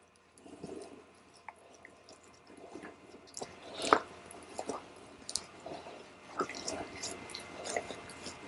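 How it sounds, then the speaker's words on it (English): Wet plaster of Paris cast on a short arm wrist immobilization is rubbed and massaged with water by hand, giving faint, close squishing and soft wet smacking sounds in an irregular rhythm. "you put it on, and you massage the water in to make sure that you don't see any holes"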